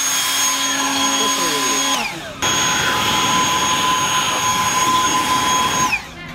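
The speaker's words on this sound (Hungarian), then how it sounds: "Ez hajszárító egyébként" A hair dryer runs with a loud, steady whirring whine that cuts off briefly, then starts again and continues before dropping away at the end. People talk faintly over the noise.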